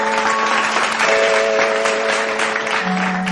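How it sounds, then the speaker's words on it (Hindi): Audience applause welcoming a singer on a music stage show, dense clapping throughout with sustained musical tones playing underneath. "सुभाष दास जोरदार करताली सहित स्वागत करें।"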